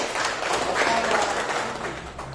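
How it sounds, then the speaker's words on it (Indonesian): A classroom group applauds together, a dense and even patter of many hands clapping at close range for a couple of seconds, with some voices underneath. "Kita berikan aplaus yang meriah"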